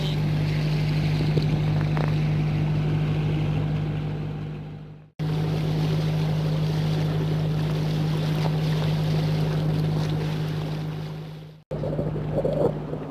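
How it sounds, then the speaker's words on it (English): A sailboat motor sailing in light wind and thick fog off Maine, its engine a loud, steady close drone with wind and water noise, broken by two brief cuts. "we're just motor sailing, lightish wind, and very, very low visibility."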